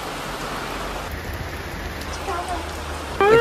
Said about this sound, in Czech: Teď jako hrozně prší.